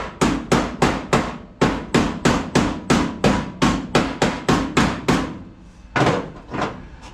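An air chisel working loose a car body panel in a shop, a loud close series of regular heavy hammering thumps at about two per second, slowing and breaking off near the end.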